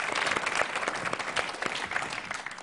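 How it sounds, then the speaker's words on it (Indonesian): Audience at a televised Indonesian stand-up comedy show applauding a performer, a sustained crowd clap with scattered sharper individual claps, moderately loud and continuous. "Tepuk tangan dulu dong buat Bang Mudi."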